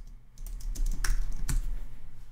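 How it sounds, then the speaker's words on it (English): Keystrokes on a computer keyboard while composing a blog post, a steady run of clicky taps with a few sharper key hits, close and alone with no talking. "start typing"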